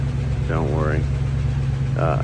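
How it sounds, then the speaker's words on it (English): Rebuilt 304 V8 in a 1975 International Scout II idling as it warms up, a steady low rumble with faint ticking, heard up close while someone talks over it. "It has a 304 that was rebuilt from an unknown source. As you can hear it warming up, you can hear it ticking."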